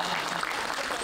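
Audience applause at a Jashn e Poetry event at Tis Hazari court, a steady dense wash of clapping from a crowd, moderately loud and continuous throughout without anyone speaking.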